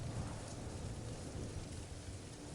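Steady rain falls through the night on a camp where a hammock hangs between two trees, a dense, even hiss with a low rumbling undertone that holds at constant loudness throughout, with no voices.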